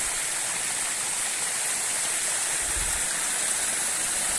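Mountain stream water flows steadily in a broad, continuous rushing wash, loud and close, with no voices over it.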